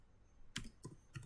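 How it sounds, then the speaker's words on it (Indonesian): A few quiet keystrokes on a computer keyboard while a wget command is entered in a cloud lab exercise, three or four soft clicks close by in a short burst. "Kita ketik aja di sini wget"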